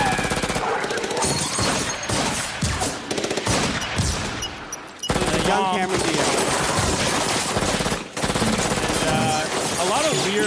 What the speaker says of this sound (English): A lot of gunfire for a family movie.